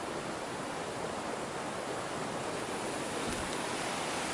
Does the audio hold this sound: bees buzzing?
no